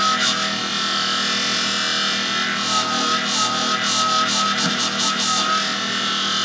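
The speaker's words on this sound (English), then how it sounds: "I'm going to work that back side up towards the spine, up towards that edge, polishing the blade up." A left-hand shear blade is polished on a sharpening pad with continuous rubbing and scraping strokes, close and steady, with a faint mechanical hum running underneath.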